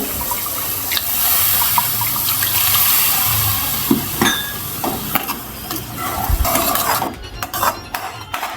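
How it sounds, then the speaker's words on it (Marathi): Water left from grinding a tomato paste pours into a simmering kofta curry, a close, steady splashing gush for a few seconds, then gives way to scattered clinks and stirring in the pan. "आणि हे आपण वाटण्याचं पाणी होतं ते घालून घेऊ"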